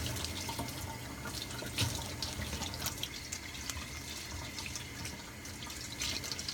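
Running tap water splashes steadily in a sink while a face cleanser and exfoliation powder is rinsed off, with small irregular drips and splashes over a constant flow.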